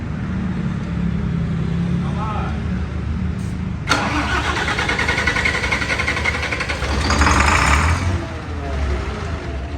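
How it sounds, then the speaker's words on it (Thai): A 6UZ car engine that has sat in long storage is started: a sudden crank-and-catch bursts out, then rough mid-range running with a brief surge in revs, and a voice talks faintly over the noise. "ถ้ามันไม่ติดก็ต้องกระตุ้นครับเพราะว่าเครื่องมันจอดนาน มันหลับนาน"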